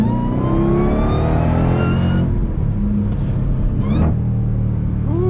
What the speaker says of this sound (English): ooh, those downshifts are crisp.